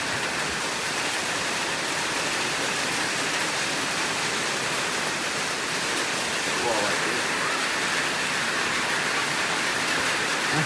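Heavy rain pours steadily in a dense, continuous hiss that stays loud and even throughout.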